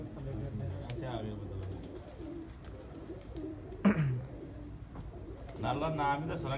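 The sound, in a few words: racing pigeons cooing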